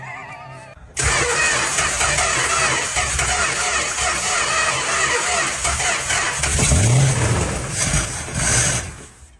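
A derelict Chrysler Newport with serious engine problems cranks and catches, then runs loud and rough for several seconds with a brief rev before dropping off.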